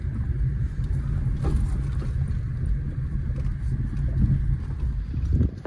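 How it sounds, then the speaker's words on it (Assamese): Strong wind buffets outdoors at a riverside ferry ghat, a constant low rumbling roar battering the microphone for the whole stretch, loud and unbroken, with no voices. "বতাহ আছে কিন্তু আজি।"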